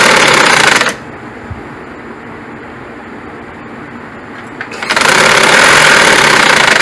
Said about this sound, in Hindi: अब हम सिलाई लगाते हैं।